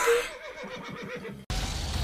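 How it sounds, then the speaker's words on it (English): A horse in a video game lets out a loud whinny with a wavering, descending neigh lasting over a second, then a sudden cut to a burst of noisy game background. "That horse!"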